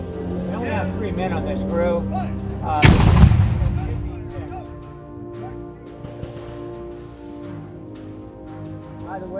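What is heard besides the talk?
colonial cannon firing a powder-only charge, no ball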